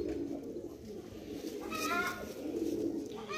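A single male pigeon coos softly at a pigeon sale in Lucknow, a low rolling murmur held close over steady background hum, with faint bird sounds and a brief higher rustle midway.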